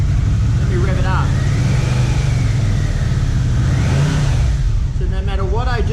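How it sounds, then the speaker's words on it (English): A Yamaha Vmax motorcycle engine with a battery that drains faster than it charges is revved up and down, its loud, close engine note rising and falling in several sweeps. "Let me rev it up."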